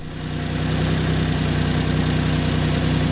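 A Maserati BiTurbo engine, with an aluminium radiator, runs close by at a steady idle with an even, throbbing low rumble and no voices.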